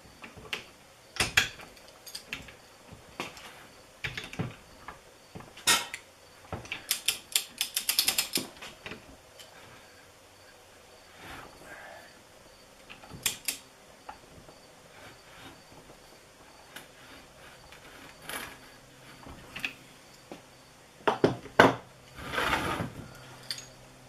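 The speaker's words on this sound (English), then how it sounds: "this is can be difficult to hold this strap wrench and torque this bolt at the same time" Metal tools at work on a car's Procharger supercharger pulley, a strap wrench holding the pulley while a bolt is torqued, giving irregular ratcheting clicks and clanks up close over a quiet background.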